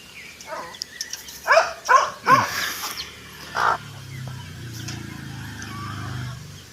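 Native hen and her chicks drinking water, giving a few soft, close clucks and chick peeps in short bursts, then quieter rustling and low background hum.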